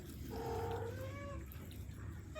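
A cat meows close by, a short rising then falling cry followed by a softer second call, over low background hum, no talk.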